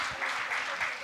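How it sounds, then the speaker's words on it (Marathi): Brief burst of crowd clapping at a cultural programme, a dense patter of many hands, moderately loud and unbroken through the short stretch. "जोरदार टाळ्या झाल्या पाहिजेत"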